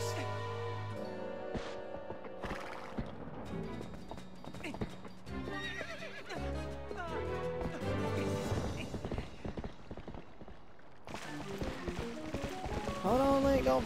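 In a Zelda video game, a horse gallops with rhythmic hoofbeats, whinnies and neighs, mixed with game music and effects, rising and falling in bursts over about fourteen seconds.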